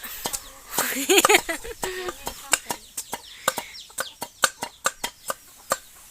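Chickens cluck and squawk nearby, with a burst of loud fowl calls early on, followed by a steady series of sharp chopping knocks.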